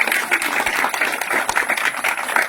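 Sustained applause from a crowd at a public speech on the Dom community, a dense, steady clapping wash that continues without a break and with no clear voice over it.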